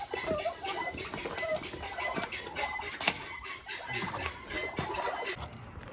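Turkeys gobble and cluck inside a chicken coop, a busy scatter of near, fairly soft calls over a steady outdoor hiss, with no talking.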